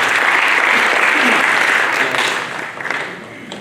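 Loud, dense applause from a drama festival audience, steady and sustained before tapering slightly toward the end.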